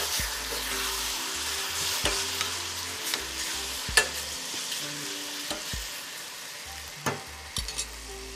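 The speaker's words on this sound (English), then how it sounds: "I'm now adding two cups of chopped tomato. Saute that really quick." Cumin and chopped tomato sautéing in a pan, with a steady sizzle under repeated stirring and utensil scrapes, several sharper clacks of a spoon against the pan standing out.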